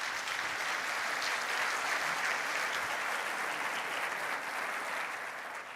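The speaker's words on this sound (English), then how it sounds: "give a round of applause for our panelists" Steady, dense audience applause for panelists at a plenary conference session, a sustained even wash of many hands clapping from a large hall with no pauses.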